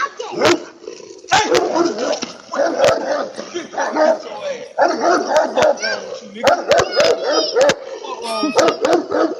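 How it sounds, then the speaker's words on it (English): A dog barks, yips and whimpers repeatedly up close, excited and insistent, with a person talking over it. "you better come get this dog"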